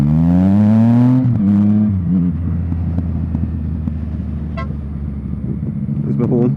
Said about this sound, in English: There's my horn.